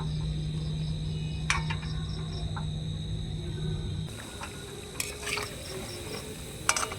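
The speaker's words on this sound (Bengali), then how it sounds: "মিডিয়াম করে ভেজে নিতে হবে।" Gaja sweets deep-frying in hot oil at a medium heat make a continuous dense sizzle with scattered sharp crackles and pops, close and steady, with no talking.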